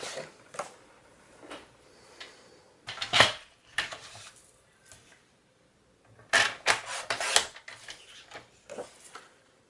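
Paper for a loaded envelope is sliced with a trimmer in several short, crisp, close bursts of blade cutting and clicking, separated by quiet pauses.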